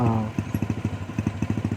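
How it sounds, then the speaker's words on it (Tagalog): A Skylab motorcycle's small engine putters close by in a quick, steady train of throaty pulses, its rhythm running evenly for almost two seconds with no talking over it. "Sa amin, Skylab kasi ang tawag yan mga guys, yung ganong motor"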